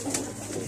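A white pigeon gives a short, soft coo close by, brief and fairly quiet, with no talking.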